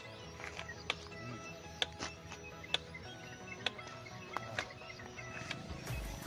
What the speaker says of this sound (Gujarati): મશીન ઓલરેડી ચાલુ છે એનો અવાજ તમે જોઈ શકો છો